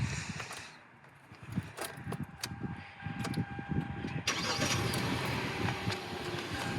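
A 2015 Hyundai Elantra GL 1.8L sedan cranks and its engine catches partway through, settling into a steady, fairly loud idle after some nearby clicks and shuffling.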